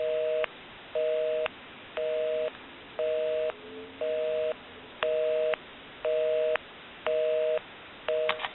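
A repaired Northern Telecom telephone sounds a busy signal, a regular on-off tone pulsing about once per second in even bursts for the whole stretch.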